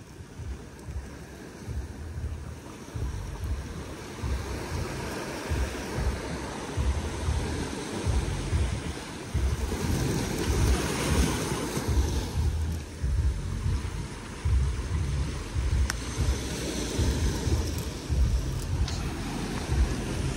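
Waves wash up on a shore at high tide, a steady broadband rush with rolling low surges. Wind buffets the microphone throughout, and there is no speech.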